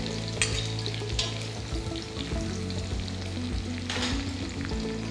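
Onion, slit green chillies, chopped garlic and ginger sautéing in oil for beef chops, a steady close sizzle with a low hum, punctuated by a few sharp stirring scrapes.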